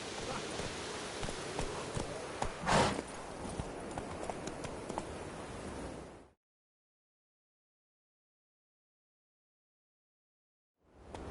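Hooves of Roach, a horse in a video game, clip-clop steadily at a walking pace with one heavier thud partway through. The sound stops abruptly into silence and returns briefly at the very end.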